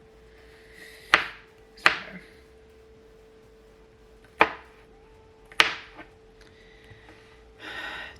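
A knife chopping onions on a cutting board in a home kitchen: four sharp, separate chops spaced a second or more apart, close and crisp against a quiet room with a faint steady hum.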